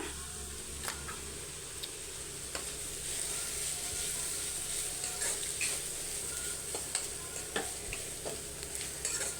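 Carrots and grated coconut stir-fry in a pan, a soft steady sizzle broken by repeated light scraping and clicking strokes of a spoon, close and alone without speech.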